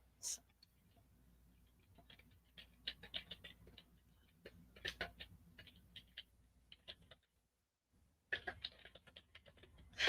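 Quiet typing on a computer keyboard, with irregular bursts of light tapping clicks close by, a short pause near the end, then a final flurry of keystrokes.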